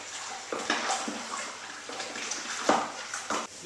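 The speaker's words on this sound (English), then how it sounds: "We'll now stir that until it's dissolved." Sugar being stirred into hot water in a brewing bucket for elderflower champagne, a steady swishing, sloshing churn with occasional knocks, close and moderately quiet, no voices.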